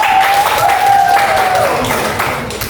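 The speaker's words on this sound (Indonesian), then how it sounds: "Tepuk tangan dulu untuk temannya." Students in a high school social studies class clap for a classmate, a short burst of brisk, fairly close applause from a modest group, fading slightly toward the end.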